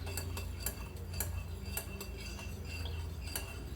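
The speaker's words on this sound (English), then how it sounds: "Got my teaspoon. I'm gonna mix that a little bit." A teaspoon stirs a mixture in a bowl during bread-dough prep, giving light repeated metallic ticks and clinks against the bowl over a steady low hum, with no talking.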